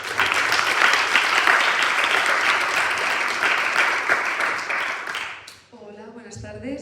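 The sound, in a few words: audience applause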